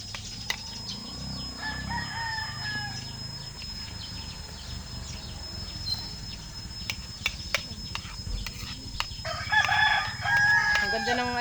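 A rooster crowing at breakfast time, a faint drawn-out crow at a distance over a low hum, with scattered clucks and clicks and a louder crow near the end.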